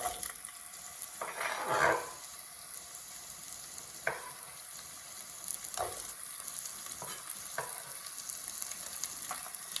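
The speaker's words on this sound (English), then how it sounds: "they're just starting to come up to a bit of a sizzle. We'll put our onions in." Onions frying in a pan for a Keralan coconut curry, a steady soft sizzle with a few brief stirring bursts and scrapes, heard close with no talking.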